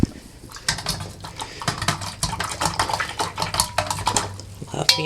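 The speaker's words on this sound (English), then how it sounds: "Now I need to stir it with something." Close, uneven clicking and scraping as a pen stirs hair colouring dye in a small container, with quick irregular taps throughout and no talk.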